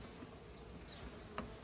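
Honeybees hum around seven hive frames in a colony being readied for winter. The buzzing is faint and steady and continues alone, with one brief closer pass.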